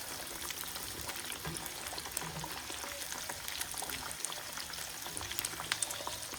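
Mashed plantains frying in hot oil, a dense, steady sizzle with crackling pops scattered throughout, close and continuous with no voices.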